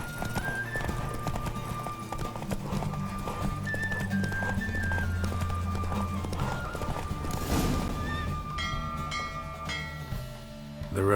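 A horse gallops at full speed in a race in The Witcher 3: Wild Hunt, with rapid, steady hoofbeats and an occasional whinny under game music.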